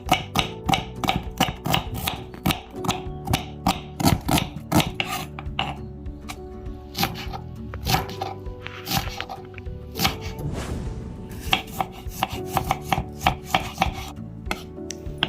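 Knife chopping drumsticks on a board for pulao, a steady run of sharp close thwacks and chops in an irregular rhythm with brief pauses, no talking.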